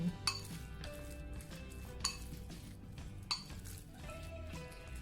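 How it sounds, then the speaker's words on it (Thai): Marinated pork is mixed with sliced shallots in a bowl, with soft stirring and a few sharp clinks of a utensil against the dish, quiet and close. "เราก็จะใส่หอมซอยนะคะ ลงไปเลย จากนั้นนะคะก็ทำการคลุกเคล้านะคะให้เข้ากัน"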